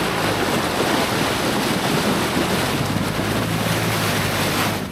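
A car fords a shallow river, with a steady, dense rush of churning water and wind buffeting the microphone, continuous and close for the whole stretch.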